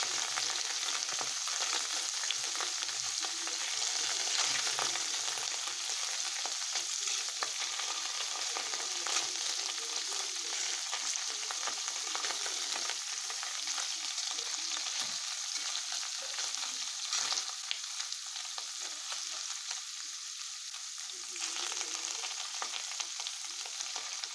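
Paneer cubes frying in a pan for palak paneer, a steady close sizzle with faint stirring scrapes running unbroken throughout, no voices.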